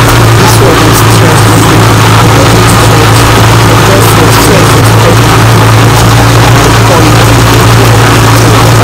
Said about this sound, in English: You add water so that it will enable the engine to grind the fufu very